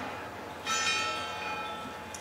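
Church bells ring out with a sustained metallic tone, swelling in partway through and lingering, fairly loud, with no talking over them.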